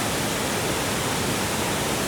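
Waterfall on a cliff in Tad Lo on the Bolaven Plateau, Laos, pouring into the pool below: a steady, broad, dense roar of rushing water, close and constant throughout with no voices.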